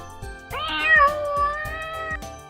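A single drawn-out cat meow that rises and slowly falls, with a few soft clicks around it, close and clear.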